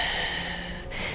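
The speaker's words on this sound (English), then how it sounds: "And then breathe." A single deep, airy breath drawn during a yoga hip stretch, close and fairly loud, lasting about a second with a sharper rush at the end.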